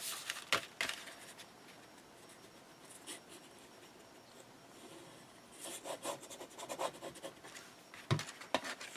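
Stamperia paper for an Alice in Wonderland mini album is folded and creased by hand. Soft rubbing and scraping comes in short bursts near the start, then a busier stretch of crinkly friction toward the end, with no talking.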